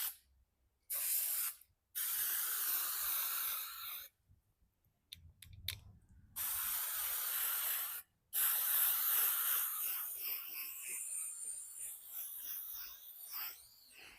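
Krylon spray finish hisses from an aerosol can onto home decor in several separate bursts of varying length, with short silent gaps between them and a long final spray that slowly fades.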